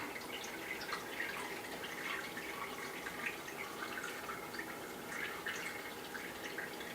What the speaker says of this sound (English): So now we're going to pour it over the olives,